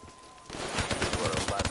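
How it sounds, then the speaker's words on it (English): Rapid bursts of automatic gunfire in the video game Call of Duty 3 crackle sharply after a short quiet lead-in, loud and dense. "I hit every single shot on him"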